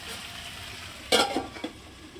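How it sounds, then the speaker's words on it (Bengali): Potato and okra fry in a pan, giving a soft background sizzle broken by one brief loud scrape of stirring followed by a couple of fainter clinks. "আলু আর ভেন্ডি দিয়ে ভাজছি"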